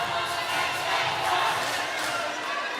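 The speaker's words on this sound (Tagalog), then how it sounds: "And a noisy crowd joining the fray." A noisy crowd roars and cheers continuously at a volleyball league semifinal in Paco Arena, Manila, a dense, loud wash of voices with no break.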